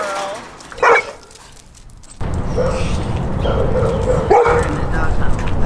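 A dog on a busy Detroit street, in a doghouse, gives a short yip or bark, followed by whimpering sounds over loud traffic noise and people talking nearby.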